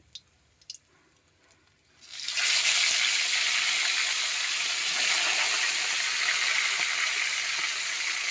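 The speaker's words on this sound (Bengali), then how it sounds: "সর্ষের তেল দিয়ে দিলাম তেলটা গরম হয়ে গেছে এবারে মাছগুলো দেবো" Fish frying in smoking-hot mustard oil in a wok: after a quiet start with a couple of small clicks, a loud continuous sizzle bursts in and holds steady to the end.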